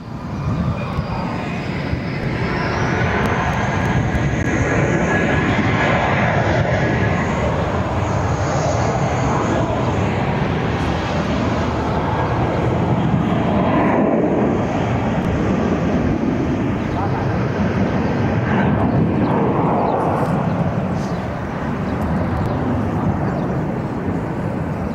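A British Airways airliner takes off from Barcelona airport, a loud, steady broadband jet roar that holds for the whole stretch without fading.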